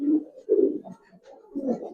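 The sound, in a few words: pigeon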